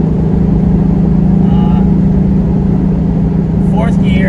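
An '86 VW Syncro van cruises on the highway in fourth gear at around 75, a loud, steady, droning engine and road rumble filling the cabin continuously, with faint brief chirps near the end.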